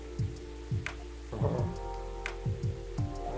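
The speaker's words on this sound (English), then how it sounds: "Ah, listen to that. It's pouring rain again." Steady video game rain from Coffee Talk Episode 2, with soft, low thumping patters and a few brief crackly bursts, continuous and moderately loud, with no voices.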